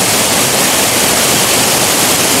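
Sekar Langit waterfall pours in a steady, loud broadband roar of falling water, close and unbroken throughout with no other sounds.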